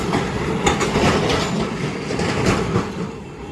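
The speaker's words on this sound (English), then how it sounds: "here comes the other train" A train rolls through a street crossing in Ybor City, Tampa, Florida, a loud steady rumble with rhythmic clicking of wheels on rails close by.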